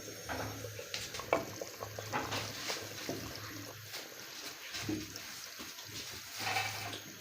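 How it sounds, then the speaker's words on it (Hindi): Flour-and-water slurry stirred into a pot of mutton kunna makes a continuous wet swishing and scraping, with faint clinks of the spoon against the pot and a low background hum. "ये आटा शामिल करना है और साथ इसको हिलाना है ताकि गुठलियाँ ना बने"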